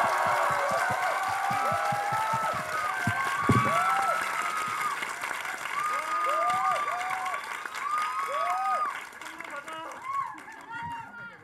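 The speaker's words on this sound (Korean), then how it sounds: "함성과 박수 한번 보내주셨습니까?" A cinema audience at a film screening Q&A lets out cheers and shouts over loud applause, with whoops and voices rising throughout before the noise thins out near the end.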